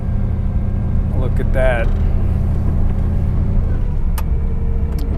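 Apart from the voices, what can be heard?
1961 Mercedes-Benz 220Sb engine while shifting manual column gears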